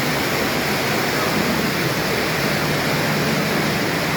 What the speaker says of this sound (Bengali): কি সুন্দর স্বচ্ছ পানি বয়ে যাচ্ছে